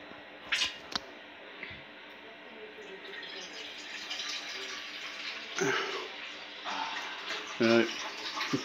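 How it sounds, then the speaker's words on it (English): Water runs from a kitchen tap into a cooking pot, a rising hiss and splash that grows fuller as it fills, broken by a few clinks and knocks nearby. "Let's put some water in it."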